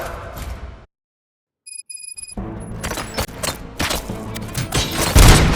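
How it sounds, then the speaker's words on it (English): Gunfire and impact thuds in the action shooter Robocop: Rogue City, a loud burst of shots and booms after a brief silence and chiming alert tones, growing denser toward the end. "Gunshots? What's going on?"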